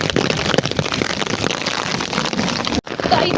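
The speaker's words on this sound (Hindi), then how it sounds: "स्टार्ट हो गए ओले, दिख नहीं रहे पर ओले हो गए स्टार्ट" Hail begins falling during a storm in Himachal, a dense, loud patter of pellets striking surfaces close by, continuous apart from a brief dropout near the end.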